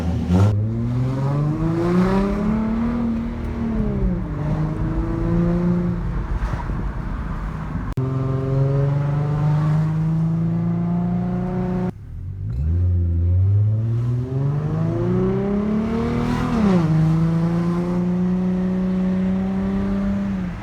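A 2012 Ford Mustang V6 fitted with a Magnaflow Race Series axle-back exhaust, close to semi-muffler-delete in character, revs repeatedly and loudly. Its deep, throaty note climbs and falls in several sustained pulls over about twenty seconds, with no talking.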